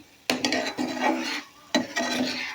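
Prawn curry being stirred and sautéed in a pan over a low flame: two close bursts of scraping and light sizzle, each lasting about a second, with a short pause between them.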